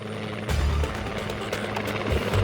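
Steady rumbling helicopter rotor noise with a low throbbing chop, fairly close and continuous throughout.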